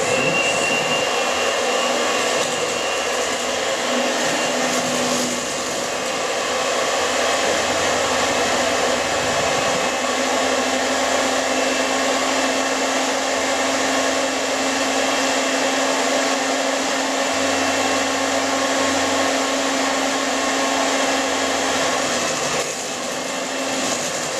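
An electric mixer drones steadily and loudly while blending Mugg and Bean muffin batter with oil in a bowl, a continuous whirring motor hum lasting throughout with slight shifts in load.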